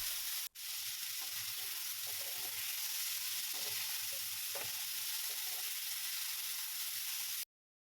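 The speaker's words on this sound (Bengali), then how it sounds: "কড়াইতে তেল তাতিয়ে চিংড়ি মাছগুলোকে ভালো করে ভেজে নিচ্ছি" Prawns fry in hot oil in a wok, giving a steady close sizzle with occasional stirring scrapes and light crackles, no talking.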